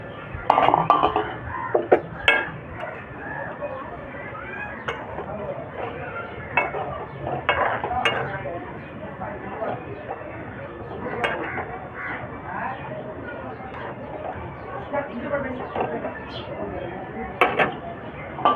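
A metal lid is set on a pot of rui fish and potato curry, giving scattered light clinks and clatters of cookware over a quiet kitchen background.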